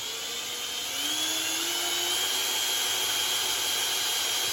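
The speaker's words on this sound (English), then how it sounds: "And I got a drill hook to it." A steady high-pitched electric drill whine runs continuously while turning an engine's oil pump intermediate shaft, rising slightly in speed and then holding an even drone.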